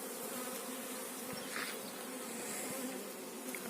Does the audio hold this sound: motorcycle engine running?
no